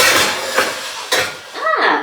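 Small metal saucepans and pans handled while being put away in a kitchen, sharp clanking knocks and a ringing scrape of metal on metal, close and loud, several separate clatters over two seconds.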